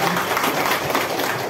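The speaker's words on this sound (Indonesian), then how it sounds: "Tepuk tangan." Audience applause at a formal ceremony after a speech, brisk dense clapping from many hands, fairly loud and continuous for its short duration with no speech.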